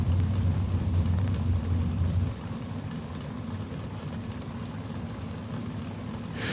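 A 1969 Chevrolet Camaro and a 1982 Chevrolet Camaro drag racing, giving a loud, continuous engine roar with heavy low rumble that drops off a little after two seconds, then a steady drone.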